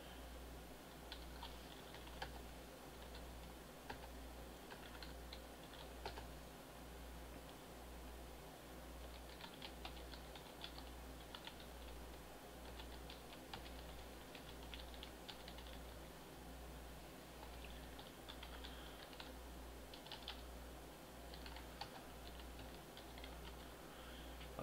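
Someone types a command on a computer keyboard, producing a faint, steady patter of soft key clicks over a low hum, with no voice.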